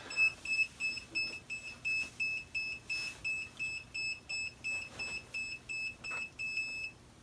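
A GOTRAX Hoverfly ION hoverboard, just picked up, emits a rapid string of sharp electronic beeps in a steady on-off rhythm, close and clear over a quiet room.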